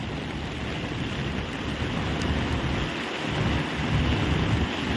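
Heavy rain pours during Typhoon Carina on a flooded street near Recto Avenue in Manila, a dense continuous hiss and roar, loud and steady with no talk.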